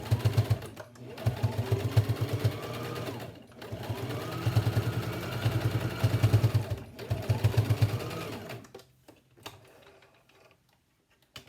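A sewing machine stitches a four-ply fabric face mask in three steady runs of rapid mechanical ticking. The runs are separated by short pauses, and the machine is close and clear before it falls quiet at the end.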